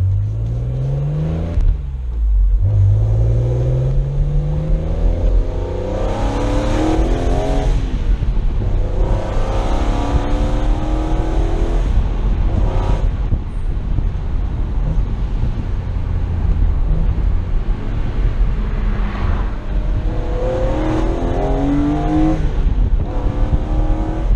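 BMW Z4 M driven on a public road, its engine droning continuously with repeated rising revs through the gears, loud and close from inside the car, with no talk over it.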